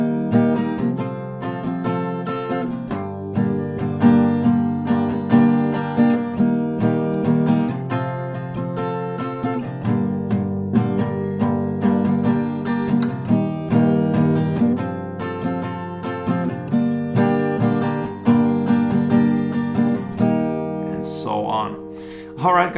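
An acoustic guitar plays a song at standard tempo. Steady rhythmic strumming carries a chord progression for over twenty seconds, close and fairly loud, and ends with a brief higher flourish.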